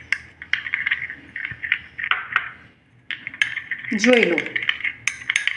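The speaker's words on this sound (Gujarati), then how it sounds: "એમાં હું થોડુંક પાણી લઈશ અને એને હું મિક્સ કરી દઈશ" Flour paste being stirred with water in a metal bowl for sealing samosas, quick light spoon clinks and scraping in an irregular rhythm, close, with a brief spoken remark partway through.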